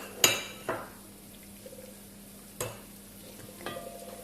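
Tomato concentrate being stirred into browned minced meat in a pan for chorba soup: a few scattered scrapes and clinks of a utensil against the pan over a faint low sizzle, close and fairly quiet.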